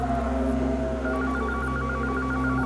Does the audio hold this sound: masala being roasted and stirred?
no